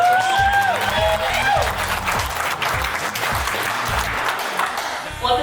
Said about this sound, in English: Round of applause for this beautiful girl.